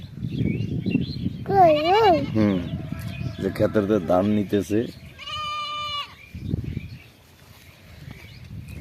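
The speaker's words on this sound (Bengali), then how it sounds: "ছাগল কান্তাছে" Goats bleat close by in a rural farm setting near paddy fields, with several wavering cries in quick succession, while people talk over and between them.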